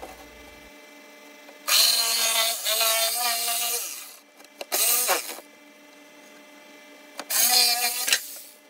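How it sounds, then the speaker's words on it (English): A jigsaw fitted with a rough-cut blade saws through wood in three bursts, a long rasping cut followed by two shorter ones, loud and close, with a steady electrical hum running underneath between the cuts. "on the jigsaw. I have other blades, but the rough cut blade works fine."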